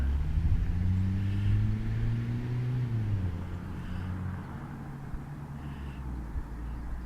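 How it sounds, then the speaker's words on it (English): A car passes along a road, a steady low engine rumble whose tone swells and then drops in pitch as it goes by, continuing as a faint background hum with no talking. "could there be any more traffic on this road today?"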